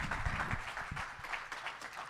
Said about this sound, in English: could we give another round of applause for Mary, please?